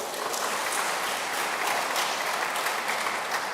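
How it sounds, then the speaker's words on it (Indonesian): A church congregation applauding during a Christmas Eve service, steady dense clapping from many hands, moderately distant and even throughout. "Tepuk tangan untuk Yesus."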